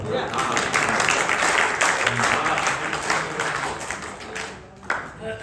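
An audience at a Hindi comedy poetry gathering in Sikar claps loudly and steadily, the applause thinning out near the end with a few scattered claps and faint voices.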